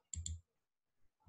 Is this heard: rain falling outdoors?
no